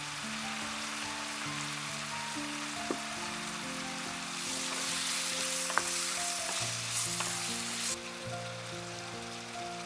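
Squid stir-fried in a wok with green pepper and onion, seasoned with salt, sugar and cooking wine: a steady, close sizzle of frying that grows louder midway, with soft stirring scrapes and background music.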